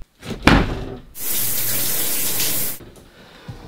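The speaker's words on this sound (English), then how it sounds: "I'm gonna take a quick shower" Water runs from a bathroom shower in a steady, loud rush for about a second and a half, framed by brief clatter and handling noises before and after.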